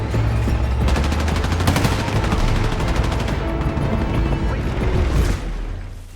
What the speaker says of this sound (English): I fire my shell as soon as they start moving to the right